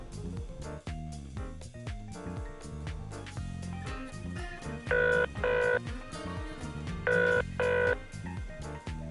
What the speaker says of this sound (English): Rahul, I can easily make and receive calls by just using the buttons on my steering wheel